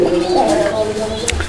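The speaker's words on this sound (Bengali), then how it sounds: "এখানে আরও এক জোড়া কবুতর আছে" Domestic pigeons kept for sale coo close by in soft, rolling low calls, with a voice talking in the background.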